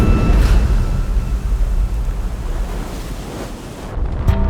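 Storm at sea aboard a sailboat, with loud, constant wind roaring across the microphone and the heavy wash of waves breaking around the hull, no talking.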